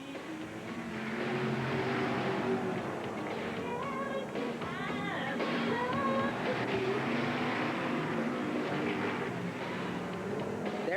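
Stock cars racing at Willamette Speedway in 1988, engines droning and rising as several cars battle for position, a continuous roar with pitch sweeps as they pass, heard at some distance with faint crowd ambience.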